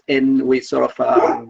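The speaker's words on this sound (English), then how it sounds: "oh, sorry about my dog." Dog barking and whimpering close by at home, short yelping bursts mixed with a speaking voice over a brief moment.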